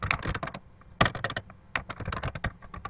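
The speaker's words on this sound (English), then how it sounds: "we can simply just type that in" Fingers type on a computer keyboard, entering event details into a web page editor, with quick irregular clusters of close, crisp key clicks and short pauses between bursts.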